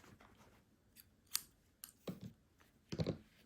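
Scissors snip through crochet yarn at the end of an amigurumi baby elephant piece, giving several quiet, close, sharp cuts in quick succession in a hushed room.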